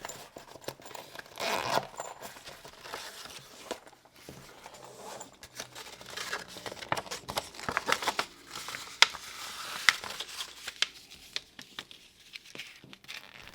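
A plastic accessory bag from a new oscilloscope is handled and opened at close range, giving irregular crinkling and rustling with scattered sharp crackles and tearing bursts, some louder than others, and no talking.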